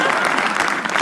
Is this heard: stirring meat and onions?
no